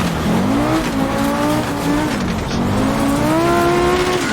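Audi Group B rally car turning and braking, its engine droning loudly and close with rising and falling revs and a faint tyre edge, no voices.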